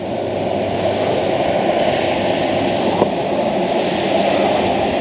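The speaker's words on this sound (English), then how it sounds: "Oh, we got a boat coming down the river." A boat motoring along the Murray River near Deniliquin: a steady, fairly loud broadband engine drone held without a break, with a brief click about three seconds in and no talking.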